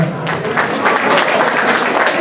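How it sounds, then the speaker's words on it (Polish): Audience applause for the winners at a racing pigeon exhibition prize ceremony, a steady, dense clapping that starts abruptly and continues evenly without pause. "wszystkim zwycięzcom, prosimy o brawa"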